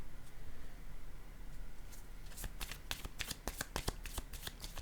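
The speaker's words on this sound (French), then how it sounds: "Je vais déposer une carte sur sexualité." Tarot cards are handled and laid down, close and quiet. Soft rustling gives way to a quick series of crisp card snaps and riffles.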